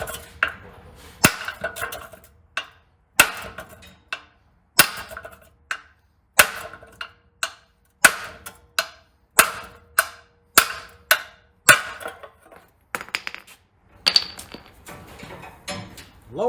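Hammer blows on the lower ball joint of a 1994 Ford F150 2WD during a leveling kit install, a steady series of sharp metallic strikes roughly every second, loud and close with ringing clanks and no talk.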